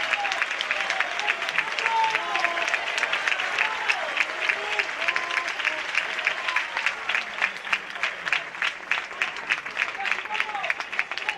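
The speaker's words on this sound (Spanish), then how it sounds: "escuchábamos el aplauso de toda la afición blanquivioleta al bigoleador en el día de hoy" Real Valladolid Promesas supporters in the stadium applaud their two-goal scorer as he is substituted. The clapping is dense, steady and distant, lasting throughout, with a commentator's voice running over it.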